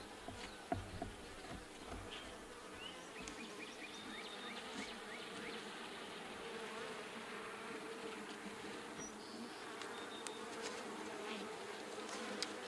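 Honeybees buzzing around an open hive during an inspection, a dense continuous drone of many insects with individual bees passing close by, steady and fairly quiet throughout.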